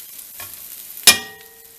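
Garlic frying in a pan over a low flame, a soft steady sizzle with one sharp clatter partway through, as if something drops into the pan.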